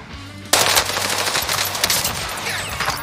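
Automatic machine gun fire in the video game Warzone bursts in after half a second of quiet, a loud, rapid continuous rattle of shots that carries on to the end.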